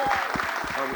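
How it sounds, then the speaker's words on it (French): Audience at a business pitch session applauding, a dense steady clatter of clapping that fills the whole second at close, even loudness. "On applaudit Lamia."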